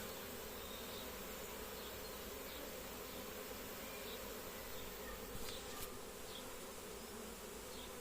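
A dense honeybee swarm being collected hums steadily and continuously, the buzzing close and unbroken, with a few individual bees zipping past.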